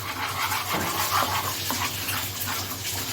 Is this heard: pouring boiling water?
yes